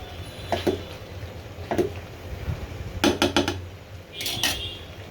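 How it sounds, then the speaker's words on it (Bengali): Metal lid set down on a cooking pot of beef liver in a home kitchen, with a few sharp clinks and clatters spaced across the moment, close and moderately loud. "আবার ঢাকনা দিয়ে ঢেকে দিয়েছি।"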